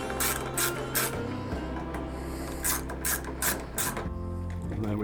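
A ratchet tightens the bolts of a Givi Tanklock mount on a Kawasaki Vulcan S motorcycle, producing repeated bursts of rapid clicking close by with short pauses between strokes.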